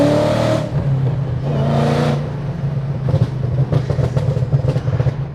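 A 2020 Ford Mustang GT500 is revved at about a quarter throttle, giving several loud, close bursts of engine roar that rise and fall, followed by a rough, burbling idle.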